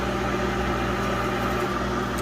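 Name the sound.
old microwave oven running, cooking bacon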